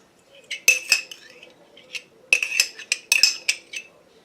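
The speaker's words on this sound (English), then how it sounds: "I'll use my iced teaspoon." A long iced teaspoon clinks against a glass while a homemade coffee-house drink is stirred, with bright metallic chinks in a few quick clusters, close and clear, with no talking.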